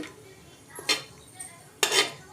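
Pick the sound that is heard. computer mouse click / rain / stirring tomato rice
stirring tomato rice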